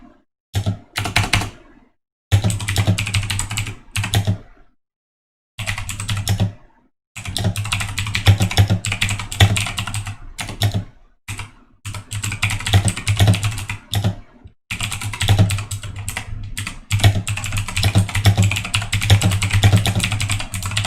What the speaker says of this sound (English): I'm sorry about the typing.